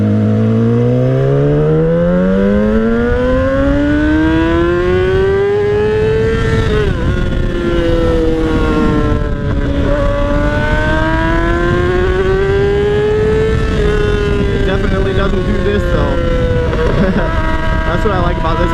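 Indian Scout 60 motorcycle on its first ride, the engine loud and close, rising through the gears and then holding steady at cruising speed, with rushing wind throughout.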